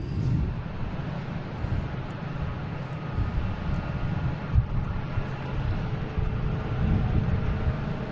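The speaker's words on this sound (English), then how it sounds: "We got Delta here in Nashville, an A220. Flight 2586." A Delta Airbus A220 airliner at Boston Logan airport gives off a steady, broad jet-engine roar at moderate distance, blended with gusty wind and no voices.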